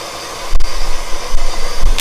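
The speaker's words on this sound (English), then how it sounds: "if you don't want to knead it by hand, then I put it in a mixer, just to make it smooth." A KitchenAid stand mixer kneads mochi dough with a loud, steady motor whir, broken by rhythmic thumps as the dough slaps around the bowl.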